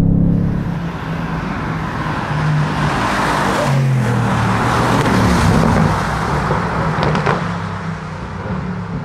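Mercedes-AMG GT accelerating hard out of a corner at the Bilster Berg race track, a loud, sustained engine roar that rises as the car builds speed, heard close up with no talking.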